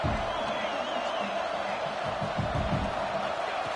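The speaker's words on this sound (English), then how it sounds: "Listen to the crowd energy here in the early going." Football stadium crowd roaring steadily early in a game at a tough road venue, a dense continuous wash of many voices with scattered shouts and whoops, fairly loud and sustained throughout.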